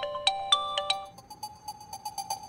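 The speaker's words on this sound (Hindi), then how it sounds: "इसका फोन आ गया ये। शिट, वही मैम का कॉल।" A phone ringtone for an incoming call rings out in a brisk electronic melody, a run of bright chiming notes followed by a steadier repeating warble, close and clear with no talking.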